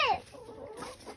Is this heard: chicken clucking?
yes